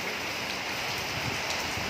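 Steady rain falls during Typhoon Kristine, a dense, even hiss of drops on surfaces that continues without break through the whole stretch, fairly close and with no talking.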